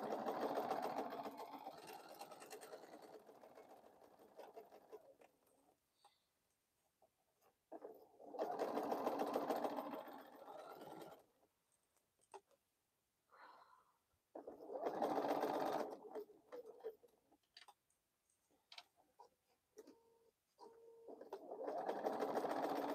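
A home sewing machine stitching fabric bowl cozies runs in several steady whirring bursts of a few seconds each, separated by quiet pauses, fairly close and alone without talk.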